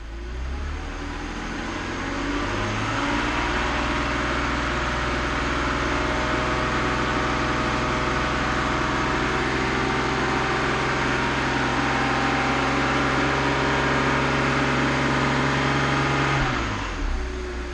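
A car engine with a vacuum leak being diagnosed runs up to speed and holds there, a steady droning hum with layered tones that settles after a few seconds and drops away abruptly near the end.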